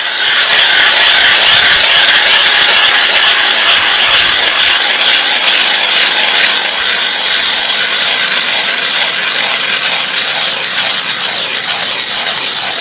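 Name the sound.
hand auger drilling through ice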